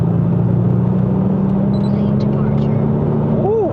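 A 2012 Audi S8 with a 4.0L TFSI bi-turbo V8 accelerates on a Malaysian test drive, heard from inside the cabin as a steady, deep, close engine drone, with a brief voice near the end.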